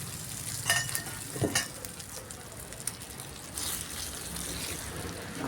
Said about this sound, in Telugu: పోపు పెట్టేస్తున్నాను వేగిపోయిందండి పోపు వేసేసి కలిపేసుకోవడము